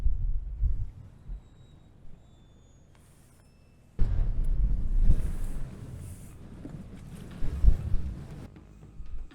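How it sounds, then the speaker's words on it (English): Wind gusting across a lake during kayak fishing for bass and pike on a cool autumn afternoon, buffeting the microphone in uneven low roaring surges that swell, drop away and return. "Windy."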